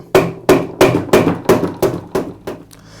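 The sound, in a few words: mallet striking air compressor motor shaft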